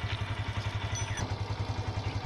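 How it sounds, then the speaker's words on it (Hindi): A Yamaha FZS motorcycle engine idles close by with a steady, even low thumping pulse and light mechanical clatter, no voices. "तो दोस्तों, बाइक स्टार्ट हो चुकी है"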